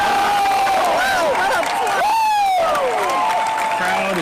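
A crowd at a pickleball tournament for mixed doubles cheers and applauds loudly, with whistling, whooping voices rising and falling over dense clapping throughout.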